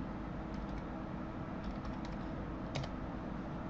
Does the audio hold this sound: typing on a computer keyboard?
yes